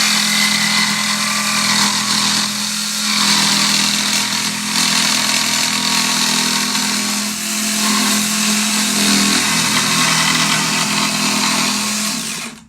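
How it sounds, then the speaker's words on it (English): A jigsaw cuts through wood for a wooden door hanger with a loud, steady buzzing rasp that runs nearly continuously, rising and dipping slightly as the blade works through the cut. "You always want to start your jigsaw a little bit away from your wood."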